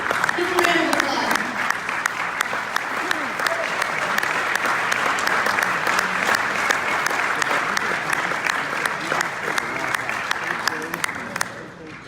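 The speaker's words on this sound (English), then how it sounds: "Give him a round of applause." A large audience applauds steadily for about twelve seconds at an ALS San Diego event honoring coach Don Casey; the dense, even clapping tapers off slightly at the very end.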